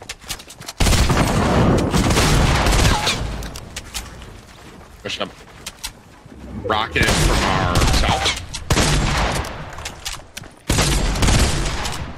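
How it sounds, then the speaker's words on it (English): Rocket explosions and gunfire in the Fortnite battle royale game come as loud booms and rapid shot bursts in several waves, with a player talking over the action. "Two rockets from both sides right now."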